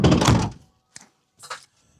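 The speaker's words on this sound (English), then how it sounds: "Let's just see if this door closes properly." A Mercedes Sprinter campervan door shuts with one loud, heavy thunk, followed by a couple of fainter rattles and clicks as it settles, nearby with no talking.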